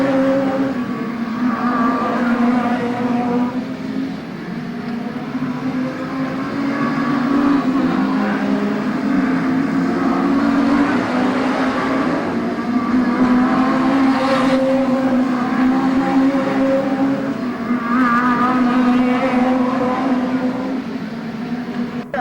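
Several loud National Hot Rod engines drone together continuously at Arena Essex, their pitches rising and falling as cars race past close by, with no talking.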